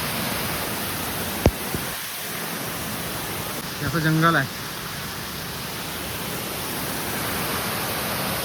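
A steady, full rushing roar of a hidden village waterfall runs without a break from start to end, with voices talking briefly over it.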